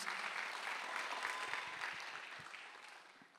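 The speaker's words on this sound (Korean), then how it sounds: "박수 한번 더 주세요" Congregation applauding during a Korean church Sunday worship service, a steady broadband patter of many hands that fades gradually toward the end.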